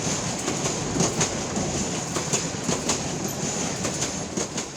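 A train runs along an uneven, crooked railway line near Sripur in Gazipur. Wheels clatter in a rhythmic clickety-clack, with faint squeals over a steady rumble, close by, and no voices are heard.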